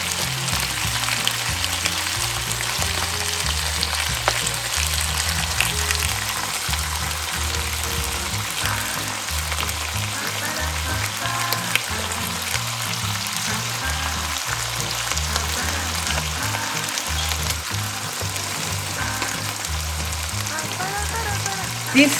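Seafood and green onions cooking together for a Mexican molcajete dish, a steady crackling sizzle that hisses like rain, with a low muffled voice speaking faintly underneath.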